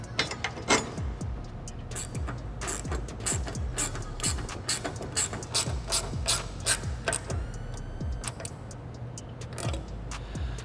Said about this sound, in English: So I'm going to grab an Allen key and we're gonna tighten these down.